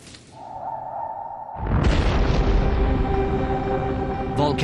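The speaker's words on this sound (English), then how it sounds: "Volcanoes become more active, spewing out poisonous gases and clouds of dust" A volcanic eruption boom: a low whoosh and tone give way to a sudden loud, sustained rumbling roar that fills the rest of the stretch, with a brief swish near the end.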